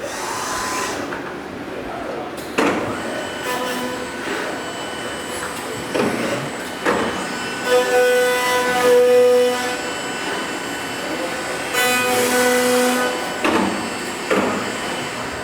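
A 990-APEX automated machine starts its cycle after the operator steps clear of the light curtain, giving off a steady mechanical whir with tonal hum and repeated clunks and bursts of motion, with no talk.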